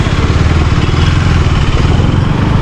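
A 2024 KTM Duke 390 motorcycle engine runs close and loud with a steady, throbbing low-pitched pulse, holding an even drone throughout with no talk over it.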